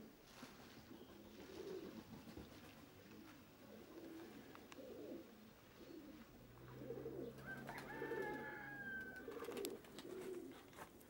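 Budapest high-flying pigeons coo in a soft, repeated rhythm at a distance, with a few thin bird calls over a quiet outdoor background.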